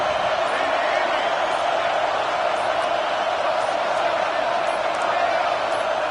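A packed stadium crowd roars in a college football video game between Oklahoma and LSU. The steady, loud, broadband wall of noise holds without a break from start to finish.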